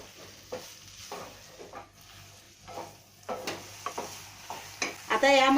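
Red pumpkin halwa sautéed in a pan, a spoon stirring and scraping in bursts over a steady sizzle, close by, with a louder clatter of the pan near the end and no talking.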